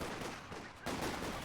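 Sustained automatic gunfire from a magazine dump in an online infantry shooter, a dense continuous burst of rapid shots that swells louder partway through, with no talk over it.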